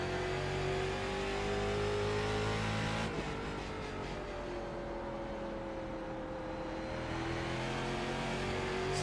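A street stock race car engine drones steadily through a lap of Langley in iRacing, heard from the cockpit with a sustained mid-pitched roar, a shift in revs partway, and other cars' engines in the background.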